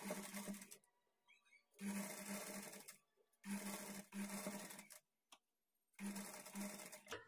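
A sewing machine stitches blouse fabric in four loud, close bursts of whirring, separated by short silent pauses.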